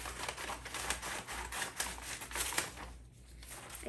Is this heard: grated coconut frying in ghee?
no